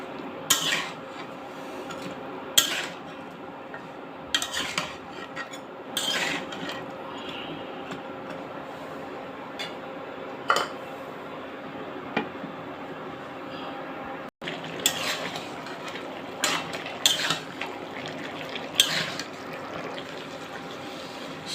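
Metal spoon scraping and clanking against a cooking pot while mixed vegetables are stirred for a fish and vegetable curry. Intermittent clinks and scrapes come close, and a lid is set down on the pot, with no speech.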